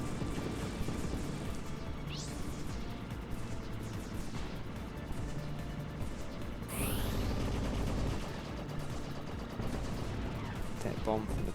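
In the shoot-'em-up Andros Dunos 2, a ship's back-shot special weapon sets off a heavy bomb, with booming blasts and explosions over constant game music and gunfire throughout.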